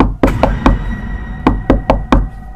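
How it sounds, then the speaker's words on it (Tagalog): Sharp knocking on a door in a Filipino horror story, a group of three knocks, a brief pause, then four more, loud and close with a hollow thud. "At hindi tumigil ang pagkatok sa kanyang pintuan."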